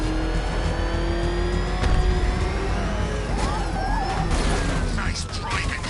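A car engine drives and revs in Batman: Arkham Knight, a steady loud roar with rising pitch and some tire noise, under a continuous bed of game sound.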